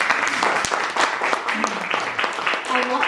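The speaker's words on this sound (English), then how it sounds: "Can we give her a round of applause?" Sustained audience applause at a literary festival, a steady wash of many hands clapping in a hall, with some voices mixed in.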